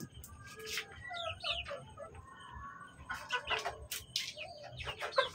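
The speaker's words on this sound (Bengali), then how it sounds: "এটা সেই সেই মুরগিটা যা শরীর খারাপ হয়েছিল" Chickens cluck and squawk close by in short, irregular bursts, with several birds calling over one another against a quiet background.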